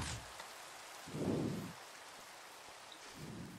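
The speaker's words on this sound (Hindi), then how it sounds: "आधी बारिश हो रही आधी नहीं हो रही" Steady hiss of rain falling in Minecraft, a continuous broadband wash with a soft low rumble swelling briefly, no talking.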